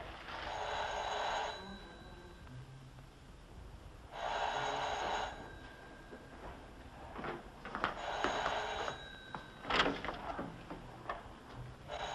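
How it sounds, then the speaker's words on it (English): A telephone rings in a 1976 James Dean biographical drama: three separate bright ringing bursts spaced a few seconds apart, with faint clicks and handling sounds between them. "Tina, get the phone!"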